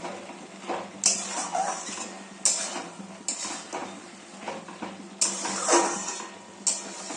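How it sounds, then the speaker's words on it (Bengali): Tomatoes and turmeric are stirred in a cooking pan, with a utensil scraping and clinking against the metal in repeated close strokes over a soft background hiss. "এবার একটু নাড়াবো, নাড়িয়ে তারপরে এটাকে ঢাকা দিয়ে দেবো"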